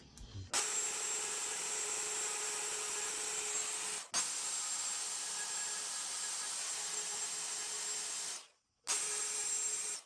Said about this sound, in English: Now all we gotta do is cut them out with the router